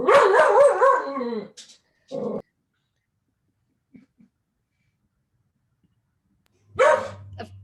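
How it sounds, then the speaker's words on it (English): A dog barks and whimpers several times up close, a burst of loud yipping at the start followed by a short bark, then silence and another bark near the end. "Sorry about my dog who hasn't barked all day."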